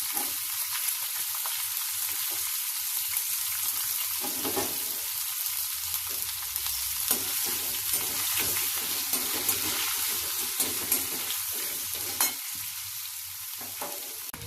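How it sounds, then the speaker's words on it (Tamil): Onion and four garlic cloves sauté in a pan for mint chutney, a steady, crackling sizzle with occasional stirring clicks, close and continuous with no talking. "இப்போ வெங்காயம் ஒரு ரெண்டு நிமிஷமாக வதங்கிட்டு இருக்கு"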